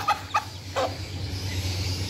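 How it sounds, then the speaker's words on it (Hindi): A hen clucks to call her chicks at a home coop, three short sharp clucks close by in the first second, followed by a low steady background hum. "ये देखें, ये मुर्गी बुला रही है उनको,"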